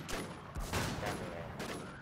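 Warzone gunfire comes in a few rapid bursts of shots, fairly loud and close, separated by short pauses, with a little background chatter.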